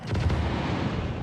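Missiles launch in a video game as a heavy, sustained rumbling roar that swells loudly at once and holds with a deep low-end boom before thinning slightly.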